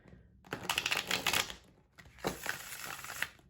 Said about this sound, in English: Let's see if I can not mess up a riffle shuffle.